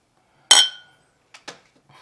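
Glasses clink together in a toast, one bright ringing strike followed by two fainter taps and a soft rattle.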